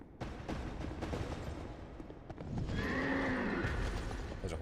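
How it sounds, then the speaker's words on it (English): A horse in the game Dark Souls 2 whinnies, a rising, drawn-out neigh heard after a stretch of hoof clatter and scuffling, fairly close and moderately loud, with no talk over it. "There's a horse here."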